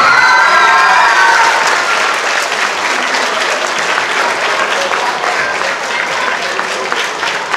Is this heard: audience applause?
yes